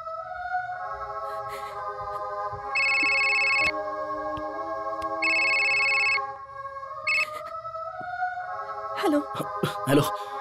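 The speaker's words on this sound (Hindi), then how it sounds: "सबसे पहले दिव्या को फोन कर।" A phone's electronic ringtone plays in repeated bursts of bright tones over a low background, with a few sharp clicks near the end.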